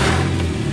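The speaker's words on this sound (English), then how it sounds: "Then we are able to start the car already" Right after a jump start, a Porsche 911, Cayman or Boxster engine runs at a loud, steady close-range idle, an even low rumble with no talk.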